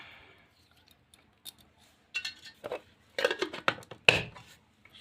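A cucumber being ground by hand with no water added, giving sparse, uneven scraping and knocking strokes that cluster into a busier burst near the end, close and fairly quiet with no talk.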